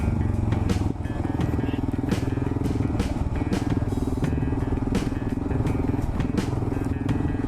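A motorcycle rides off-road along a rough backcountry trail, its engine droning loud and continuous while rattles, clatters and knocks from the uneven ground break through throughout.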